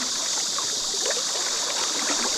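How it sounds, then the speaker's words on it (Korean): Steady rushing hiss of water flowing over shallow river rapids on the Jecheoncheon stream, continuous and moderately loud with faint gurgles, no voices. "물소리 들으면서 낚시하는 게 그냥 마음이 깨끗하게 정화가 되는 것 같습니다"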